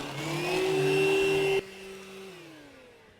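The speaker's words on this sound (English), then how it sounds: "I'm gonna continue to vacuum this car" A VacLife VL726 handheld vacuum pulls pet hair from a car interior, its motor whining loud and steady up close before dropping in pitch and fading as it winds down.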